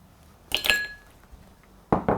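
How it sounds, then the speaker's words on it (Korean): An egg is cracked and dropped into a bowl of meatball dough with a reserved yolk, giving two sharp clinking taps about a second and a half apart, close and fairly loud, with no talking. "그냥 계란을 하나 탁 넣어요"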